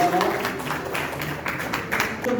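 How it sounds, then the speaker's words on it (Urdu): An audience at an awards ceremony claps in moderate applause with scattered individual claps, somewhat distant and uneven, while a voice speaks underneath. "نازمی صاحبہ کے لیے بہت ساری تالیاں"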